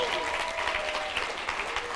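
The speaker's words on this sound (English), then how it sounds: "while you're standing up and applauding" An audience at a global health event stands and applauds, dense steady clapping filling the whole stretch at an even, moderate loudness with no single voice rising above it.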